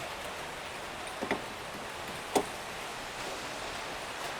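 Steady rain falling outdoors around a parked 2018 Honda Jazz 1.5 V, an even hiss of drops with a few louder single ticks and splashes, quiet and continuous with no talk.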